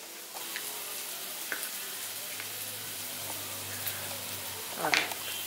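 Chopped onions fry in a pan for a masala dosa potato filling, giving a steady low sizzle that runs throughout at moderate level with a few faint clinks and stirring sounds near the end.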